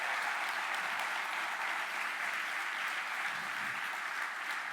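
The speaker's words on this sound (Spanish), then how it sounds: "si vas a aplaudir, hazlo con más fuerza" Church congregation applauding, a continuous, even roar of many people clapping hard, filling the room without pause for several seconds.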